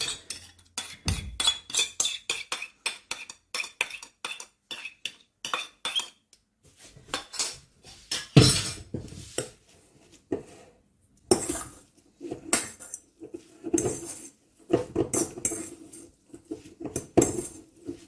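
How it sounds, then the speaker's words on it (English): A metal spoon scraping and clinking against a container to get marinated feta salad dressing out, many quick repeated scrapes and taps, close and clear with no talking. "Let's get a spoon to get every bit out."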